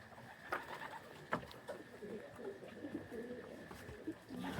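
Pigeons coo at a pigeon loft after a 613 km race, soft repeated low calls close by over steady outdoor background noise, with occasional faint bird sounds and no talking.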